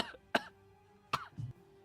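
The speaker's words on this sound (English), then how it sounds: "That's the problem with trying to cough like a gentleman." Two sharp, close coughs with a pause between them, the second followed by a short throat-clearing grunt, against a quiet background.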